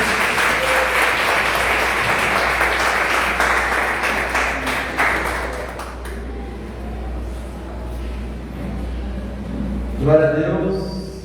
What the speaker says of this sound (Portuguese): Meu melhor aplauso para ele.